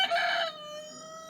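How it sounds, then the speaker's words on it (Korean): A rooster crows once nearby, a short, bright, tonal call that tails off into a thinner sustained note. "닭소리 한번 듣고 갈게요."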